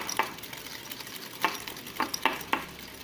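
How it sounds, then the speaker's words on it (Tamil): Biscuit dough for bourbon biscuits being beaten with added milk, giving a few soft, wet slapping and stirring strokes spaced irregularly, close by and fairly quiet, with no talking. "ஒரு 3-4 நிமிஷம் நம்ம இதை நல்லா பீட் பண்ணி எடுத்துக்கலாம்."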